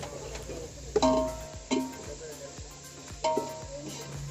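Onions and green chilies sauté in a pan aboard a fishing boat at sea, a soft sizzle broken by several distinct metallic scrapes and clanks of a spoon against the pan, with a steady engine hum underneath.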